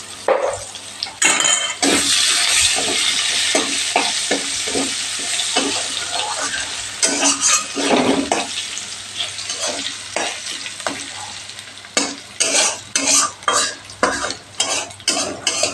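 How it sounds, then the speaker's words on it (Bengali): Cut potatoes fry in a pan with a little salt and turmeric, giving a steady loud sizzle throughout, broken by repeated scraping and clattering strokes of a stirring spoon against the pan. "আলুগুলোকে একটু ভাজা ভাজা করে নিতে হবে"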